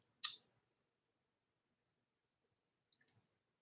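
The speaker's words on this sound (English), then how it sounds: "Just going to clip it right down, leaving just a little bit of tag end." Fishing line has its tag end snipped after tying a knot, giving one sharp close click, then a few faint small clicks near the end amid near silence.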